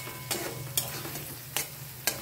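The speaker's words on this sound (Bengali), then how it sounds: "টমেটো বাটাটা দিয়ে একটু কষিয়ে নিয়েছি।" Tomato paste fries in a pan, under a soft continuous sizzle with four sharp scraping stirs spaced about half a second apart, close and fairly quiet, no voices.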